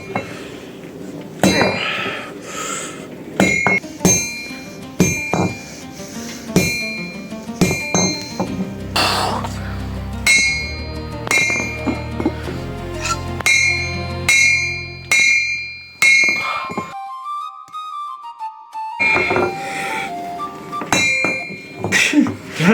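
A huge, heavy hammer forges hot metal in loud, ringing metallic clangs struck at an irregular pace, with scraping, short pauses and a quieter gap near the end.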